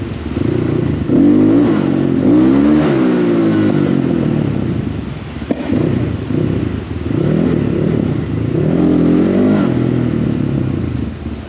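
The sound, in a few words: motorcycle accelerating in first gear during wheelie attempt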